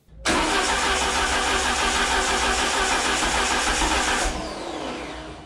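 A Peugeot 205 GTI engine cranks over continuously during a compression test with a fast rhythmic churning for about four seconds, then winds down; loud and close, no voices.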